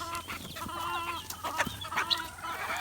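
Chickens clucking and murmuring nearby on a small farm over a busy outdoor background, with short repeated calls.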